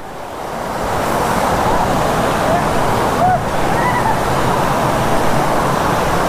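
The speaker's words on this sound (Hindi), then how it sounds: "ये देखो पानी का फ्लो देखो कितना खतरनाक है, इतना ह्यूज वाटरफॉल है।" A huge waterfall roars with a fast, heavy flow of rushing water, a loud unbroken wash of sound from start to finish, nearby and powerful, with faint voices barely rising above it.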